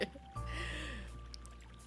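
Water splashing effect from the video game SoulSet: a faint splash followed by a soft, trickling wash of water over a low, steady game background, with no one talking.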